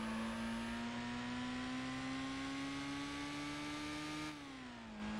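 Car engine in the PlayStation 2 racing game Gran Turismo 4 Prologue, a steady rising drone as the revs climb, then a quick dip and recovery at a gear change, loud and continuous with no talk.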